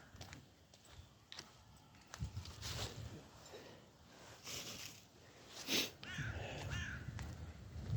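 Crows caw in short bursts across an open city square outdoors, fairly distant and faint over low street background, with a few scattered calls spread through the stretch.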